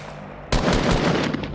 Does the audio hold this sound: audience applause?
no